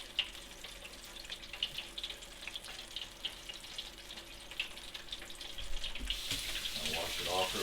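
Tap water runs steadily over a slimy toadfish fillet being rinsed at a sink, a faint continuous hiss that grows louder and splashier near the end.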